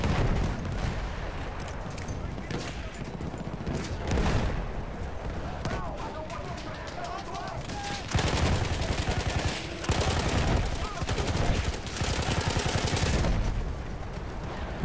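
Dense World War I battle gunfire from the Battlefield 1 campaign: rapid rifle and machine-gun bursts crackle almost without pause, some shots loud and close, others distant, with heavier booms in between.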